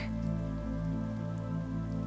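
Steady rain falls on a rainy day outside a house's front yard and porch, a continuous even hiss with a faint low tonal hum beneath it and no talk.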